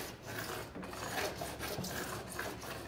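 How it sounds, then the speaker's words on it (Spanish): Steady scraping and rasping of sandpaper rubbing back and forth across a hard acrylic edge, close up and continuous with no talking. "Aquí lo que estoy haciendo es pulir los cantos del acrílico"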